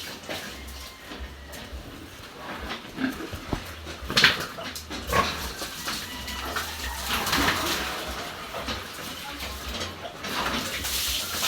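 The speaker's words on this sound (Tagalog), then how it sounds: "Shower." Shower water sprays steadily while a pet pig is bathed outdoors, with splashing bursts and soft animal whimpers over a constant hiss.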